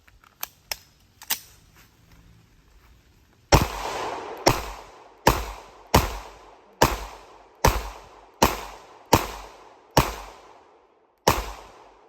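Springfield Armory Hellcat pistol firing outdoors, a few light pops followed by a steady run of about a dozen sharp, loud gunshots spaced roughly half a second apart, each with a brief echoing tail.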